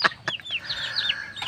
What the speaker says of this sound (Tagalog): Manok, mga pisog manok.